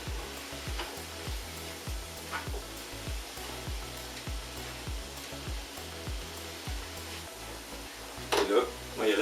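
Ramen noodles being tossed in a pan with tongs make a faint sizzle under a rhythmic series of low thumps and clicks, with a louder burst of frying near the end; a voice speaks intermittently.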